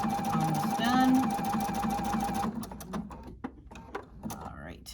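Husqvarna Viking sewing machine stitching back and forth over a torn pant leg, a steady loud motor whir with rapid needle chatter that stops midway, followed by fabric handling and faint clicks.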